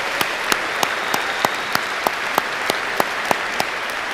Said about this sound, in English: Can I get a round of applause from the audience for this class?